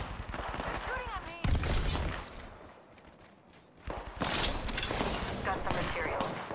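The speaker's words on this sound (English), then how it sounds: "They're shooting at me." Gunfire in Apex Legends: rapid loud bursts of shots come in two stretches with a quieter gap between them, mixed with other game sounds.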